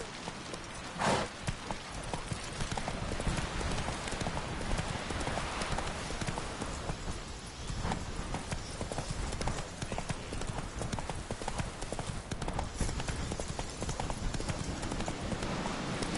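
Geralt's horse Roach gallops in The Witcher 3, a steady, rapid clip-clop of hooves running continuously at close range, with faint voices murmuring underneath.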